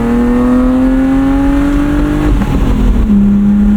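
A 1995 BMW E36 325i with a 5-speed manual, its engine note climbing steadily and loud under acceleration, then dipping briefly at a gear shift before pulling again.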